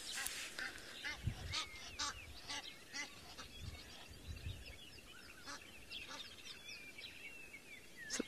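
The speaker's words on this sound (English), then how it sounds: "This pair is being very vocal, as Egyptian geese are." A pair of Egyptian geese giving harsh honks and hoarse calls at sunrise on safari, moderately near, with birdsong and faint low thumps in the background.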